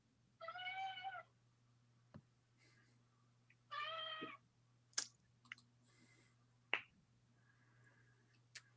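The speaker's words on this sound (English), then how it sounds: "Kitty." A domestic cat meows twice, clear and close, with a few sharp clicks and taps between and after the calls over a steady low hum in a quiet room.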